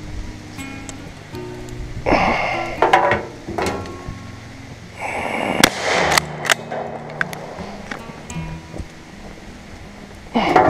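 A few sharp shots fired with home defense rounds, loud and spaced out by several seconds, with faint background noise between the bangs.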